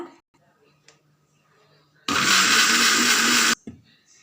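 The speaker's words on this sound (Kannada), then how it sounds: "ಹೀರೆಕಾಯಿ ಇದಕ್ಕೆ ಹಾಕಿ, ಕಾಯಿ ಹಾಕಿ ಬೀಸ್ತಾ ಇದ್ದೇನೆ" A kitchen mixer grinds ridge gourd and coconut for Sirsi-style chutney, one loud whirring burst of about a second and a half that starts and stops abruptly between quieter moments.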